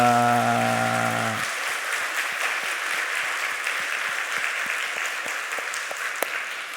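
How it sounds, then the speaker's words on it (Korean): A church congregation at a Sunday service applauds loudly and steadily, a dense wash of many hands, as sustained music fades out in the first second and a half; a few sharper claps stand out near the end. "박수 한번 하겠습니다"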